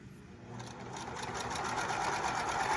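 A sewing machine stitches a two-ply cloth napkin, a rapid steady mechanical whir and needle patter that grows gradually louder and busier over a few seconds, with no voices.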